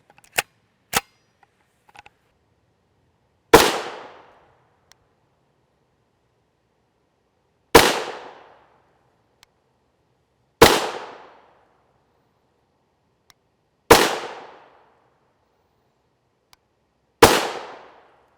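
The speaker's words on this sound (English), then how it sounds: "This is our Ruger LC carbine." A 16-inch Ruger LC carbine fires 5.7x28mm Vampire Fang rounds: five loud, sharp shots spaced a few seconds apart, each with a brief ringing decay into silence, after a couple of smaller distant pops.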